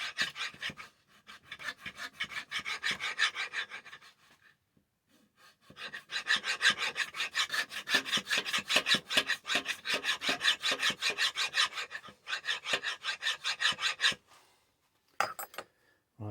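Hand file rasping along the edge of a small synth enclosure clamped in a vise, steady back-and-forth strokes in two long bursts separated by pauses, close and fairly loud, with a few clicks near the end.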